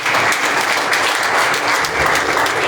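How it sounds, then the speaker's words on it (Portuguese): A church congregation applauds steadily at a worship service, a dense, sustained wash of clapping filling the room from start to finish with no voices over it. "Vamos dar um aplauso a Jesus."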